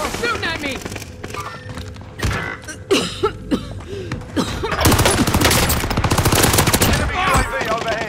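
Gunfire crackles through a military shooter video game, starting as scattered shots with game effects and voice, then building into a sustained loud burst of rapid fire.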